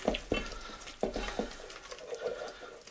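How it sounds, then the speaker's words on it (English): Spoon stirring no-bake peanut butter pie filling in a bowl: a few soft scraping strokes at a steady rhythm, close and fairly quiet, with no talking. "Stir that in."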